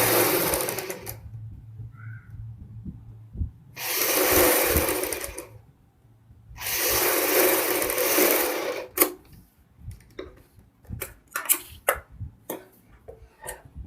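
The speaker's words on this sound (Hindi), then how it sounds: "ये सिलाई भी हमारी कच्ची सिलाई होगी" An electric sewing machine runs loose basting stitches on a kurti in bursts: two long steady whirring runs, then a string of short quick stitching spurts with pauses between.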